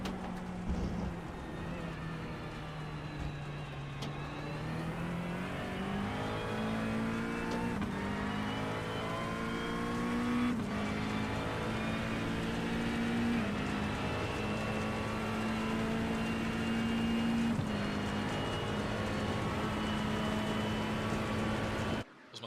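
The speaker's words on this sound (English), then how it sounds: "Those McLarens sound pretty good too. There really isn't a bad sounding car out here." Race car engines, including McLarens, drone and rev continuously in iRacing at Le Mans, a sustained high whine shifting in pitch as cars hold speed, loud and unbroken with no talk.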